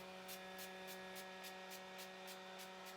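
Quick bursts of makeup setting spray repeat in a steady rhythm, about ten short hisses, over a constant electrical hum from a running fan.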